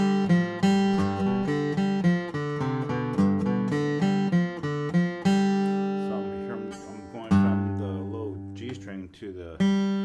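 A flatpicked bluegrass guitar plays the A-part melody of a tune, with quick picked notes jumping across strings in a brisk, even run that sounds close and bright.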